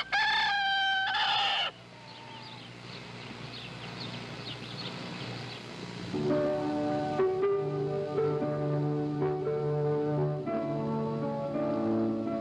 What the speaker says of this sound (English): That's a Lancaster County, Pennsylvania rooster and some of the countryside there.